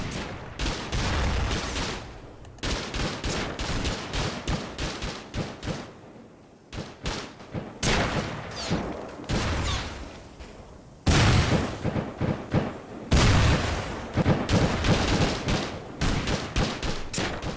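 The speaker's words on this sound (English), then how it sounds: "look at all the tracers and the fire back and forth between the two teams here" Heavy gunfire exchanged between teams during a base raid in the video game Rust: dense, continuous bursts of automatic fire and booming shots overlapping for the whole stretch, loud and relentless with only brief lulls.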